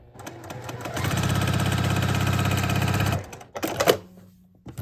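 A sewing machine stitching quilt block triangles, running in one steady burst of rapid needle clatter for about two seconds, then stopping, followed by brief handling and fabric rustle noises.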